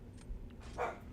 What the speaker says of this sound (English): I apologize if you guys can hear the dogs in the background